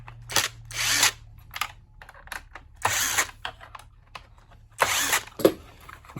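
Hand-driven T10 Torx screws loosening on a Mira Advance ATL thermostatic electric shower during a teardown, heard as a few short bursts of ratcheting, clicking mechanism noise with quiet gaps between, close up and with no talking.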